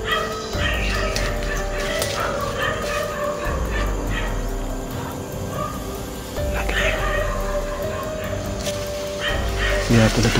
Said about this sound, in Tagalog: Kaya pala tumatahol ang mga aso